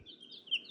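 Young chicks kept as meat birds, a batch of thirty, give soft high chirps and peeps throughout, one brighter tweet standing out near the end, fairly close but faint.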